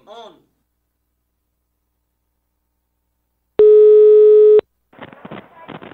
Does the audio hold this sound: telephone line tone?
yes